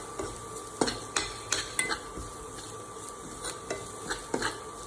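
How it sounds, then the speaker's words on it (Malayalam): A spoon is worked through Kerala-style fish curry masala as chili and turmeric powder are stirred in, making a series of distinct scraping knocks against the pan over a faint sizzle, close and with no speech. "അതിന് പച്ചക്കുത്ത് പോകുന്നത് നമുക്ക് ജസ്റ്റ് ഒന്ന് ഇളക്കി കൊടുക്കാം."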